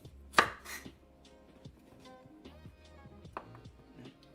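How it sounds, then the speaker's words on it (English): A kitchen knife chops peeled carrots on a cutting board, with a loud first thunk followed by a steady run of softer, irregular cuts close by. "So I'm just going to chop them up."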